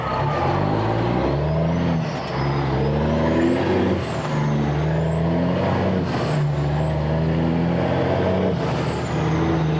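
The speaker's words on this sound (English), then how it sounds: "Damn it, there's a truck coming." A heavy truck rumbles along the road, its engine droning with repeated rising and falling gear pulls, loud and close throughout with no voices.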